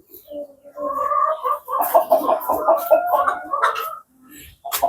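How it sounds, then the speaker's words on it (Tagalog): Roosters cluck and squawk in close, busy bursts at a backyard coop where hens lay brown eggs, several birds overlapping, then a short pause before another call. "Ito mga tandang, oh."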